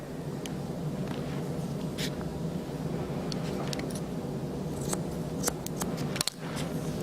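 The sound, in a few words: curved shears cutting hair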